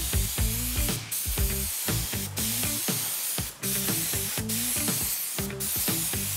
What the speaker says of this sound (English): then we're gonna spray it on a small section, see how it goes